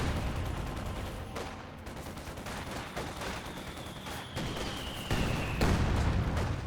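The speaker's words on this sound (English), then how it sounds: "Nice mortar hit down those Volks." Mortar fire and gunfire from a Company of Heroes 2 battle, a dense continuous clatter of shots and booms with sharper impacts near the end and a faint whistling shell overhead.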